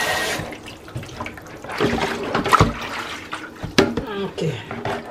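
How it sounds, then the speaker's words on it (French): Water splashes and sloshes while a plastic basin is rinsed during fish cleaning, with irregular pours and clatters at close range and occasional talking. "je rince un peu la bassine là"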